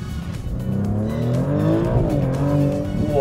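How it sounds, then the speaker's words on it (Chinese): A new Maserati GT accelerates hard with its turbocharged engine, a loud close-up rising engine tone climbing in pitch with a steady roar and faint tire noise. "虽然它那种躁动感上没有原来那么强，哇，但是引擎的这种力量，尤其当涡轮起压了之后"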